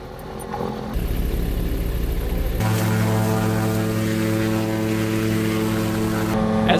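Cessna 120 light airplane engine cranking briefly, then catching and settling into a loud, steady propeller drone that runs close by without a break.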